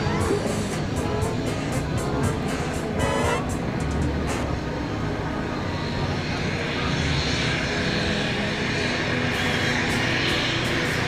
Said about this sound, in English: Got a jet coming in here.